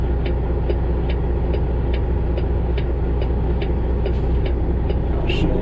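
A truck engine with a 10-speed transmission runs at a steady mid-range drone, close and constant, with faint regular ticking over the top and no talk.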